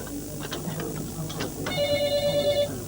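A telephone rings with a bright, buzzing electronic bell in a single sustained burst after a few faint knocks and room sounds, fairly close and loud.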